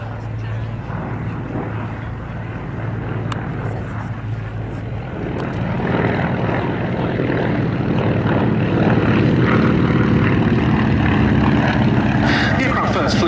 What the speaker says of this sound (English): the Beech D-17S, and here, running in over the motorway